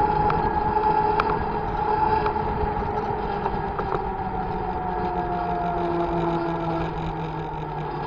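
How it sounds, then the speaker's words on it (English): A steady engine drone with a sustained whining tone that slowly shifts in pitch, running continuously with no voices. "Hear the whine of the engine."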